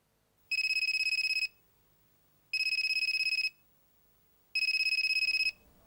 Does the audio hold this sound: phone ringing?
yes